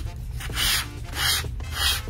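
Decoupage being scrubbed with the abrasive side of a sponge: three soft, rhythmic rasping strokes, each swelling and fading, close by and fairly quiet, with no talking.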